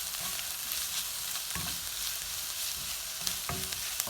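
Mumbai street-style egg bhurji (anda bhurji) with freshly chopped green coriander fries in a pan, giving a steady broadband sizzle broken by repeated scraping strokes of a spatula as it is mixed, with no talking.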